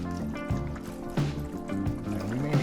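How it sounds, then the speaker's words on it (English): Chicken broth pours from a carton over cubed turnips in a pot, a gurgling, glugging stream with uneven pulses as the liquid splashes in, close and fairly clear. "we are gonna just pour in a little bit of chicken broth here, and we just need to kind of cover the turnips"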